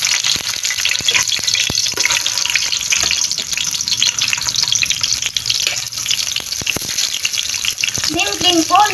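Hotdog frying in a pan for a simple home dinner, a steady crackling sizzle throughout with scattered sharp pops and spatters, fairly loud and close.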